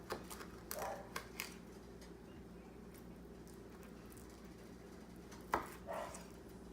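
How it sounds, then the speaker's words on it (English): A really sharp knife cuts larger seafood pieces in half on a board, making a few scattered, fairly soft chops and taps spread out over several seconds, with a faint low hum in the background. "some of these larger pieces you could cut in half again"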